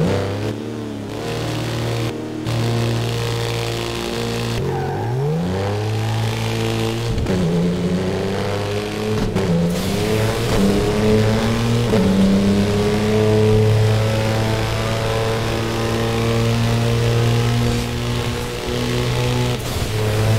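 Engine of a car in Burnout Paradise revving hard and continuously, its pitch sweeping up and down through gear changes, loud and close with no talking.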